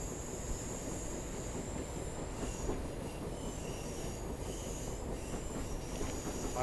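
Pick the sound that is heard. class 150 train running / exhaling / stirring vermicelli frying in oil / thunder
class 150 train running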